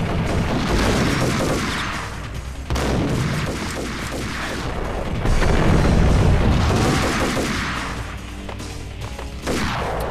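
Ingram submachine gun fire in the Max Payne video game, dense rapid bursts of shots and crashing impacts that roll on almost without pause, loud and close, along with other in-game gunfire.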